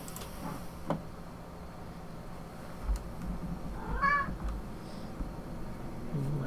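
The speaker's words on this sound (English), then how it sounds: "Cat on cue." A cat gives a single short meow close by partway through, over a quiet room with faint ticks and a few soft knocks.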